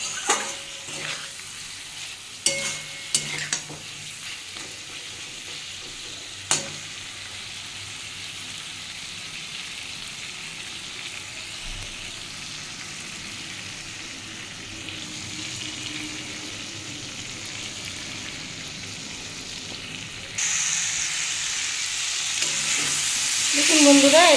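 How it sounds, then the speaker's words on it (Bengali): Curry masala being sautéed in oil for a Bengali bata fish jhol, a steady low frying sizzle with a few sharp spoon scrapes early on, the sizzle swelling louder and brighter near the end. "এবারে যতক্ষণ না তেল বেরোয় বন্ধুরা কষাতে হবে।"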